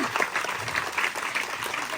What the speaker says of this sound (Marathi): छान खेळतात टाळ्या वाजवा यांच्यासाठी एकदा